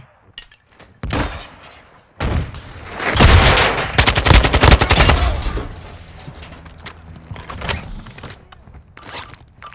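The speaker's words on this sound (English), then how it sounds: "Taking effective fire!" Call of Duty DMZ firefight with bursts of automatic gunfire and heavy shots, loud and close, coming in dense volleys with short gaps between them.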